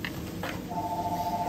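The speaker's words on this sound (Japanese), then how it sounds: "ずっと電話鳴ってるけど忙しい時は電話を取らないらしい。" A telephone rings steadily in a busy sushi restaurant, a repeating mid-pitched electronic tone under low dining-room murmur and clatter, with no voices standing out.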